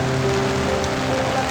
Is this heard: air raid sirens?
no